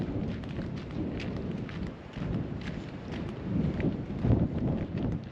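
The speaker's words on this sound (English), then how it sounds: "Wind is picking up a bit." Steady coastal wind gusting across a lookout near a lighthouse on the Yorke Peninsula, a continuous low rushing roar that swells and eases, close and fairly loud with no talk.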